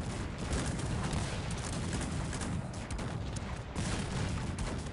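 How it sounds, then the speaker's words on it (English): Cannon fire in a Cossacks 3 battle, a dense rumbling barrage of booms and crackling shots layered continuously under distant battle noise, fairly faint overall. "the cannons are still dealing damage"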